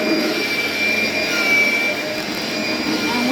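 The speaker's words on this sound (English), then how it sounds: "So he's vacuuming all the carpet." A vacuum cleaner drones steadily and loudly while vacuuming carpet during a house cleaning job, a constant whining roar close by from start to end.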